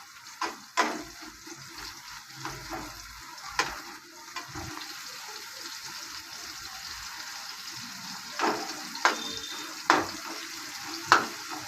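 Onion and chili frying in a pan, a faint steady sizzle with occasional sharp clinks and stirring scrapes at irregular intervals.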